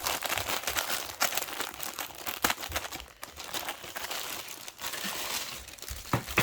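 Red and white gift paper being torn open from a parcel holding a mermaid cross-stitch kit, crisp close crinkling and rustling in irregular bursts with brief pauses, no talking.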